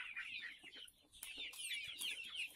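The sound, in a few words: chickens clucking while being fed water spinach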